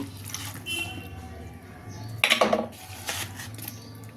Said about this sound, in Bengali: এবার আমি এইগুলো প্রেসার কুকারে দিয়ে দেব।